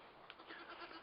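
A goat bleats in a brief, faint run of wavering calls, heard outdoors on a mountaintop stop during a road trip.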